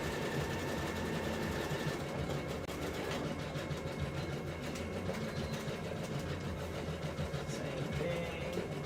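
A sewing machine runs a zigzag reinforcement stitch at 4.0 width along a sleeve seam, a steady, continuous mechanical whir and rattle that holds evenly throughout.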